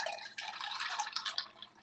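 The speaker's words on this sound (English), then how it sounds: "We're going to add in water." Water poured from a height into a microwave pasta cooker holding dry pasta, a steady close splashing fill that runs on without a break and alone.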